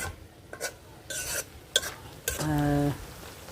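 Desi chicken sizzles with spices and onion in a pan, a spoon scraping and stirring in short bursts before a longer, louder sizzling stir near the end, close and without talk.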